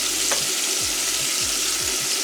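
Cubed steak frying in a pan, a steady bright sizzle with a few soft low thuds from handling, close and alone with no talk.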